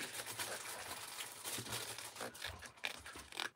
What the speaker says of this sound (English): If you can hear rustling in the background